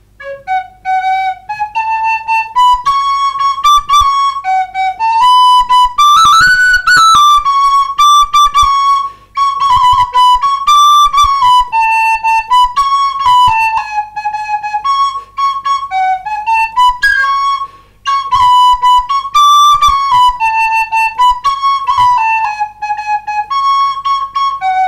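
A Romanian fluier shepherd's flute plays a lively folk tune, the patriotic song Treceti batalioane române Carpații, with clear, breathy melodic notes and quick ornamented runs, loud and close, with no talking.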